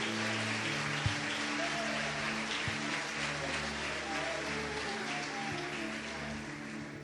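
A congregation applauds during a church worship service, the clapping forming a steady, dense wash that lasts the whole stretch, with sustained instrumental tones humming underneath.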